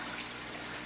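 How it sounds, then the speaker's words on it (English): Water drains into a toilet in a fish room, a brief steady splashing trickle heard close by with no one talking. "This water just goes into that toilet."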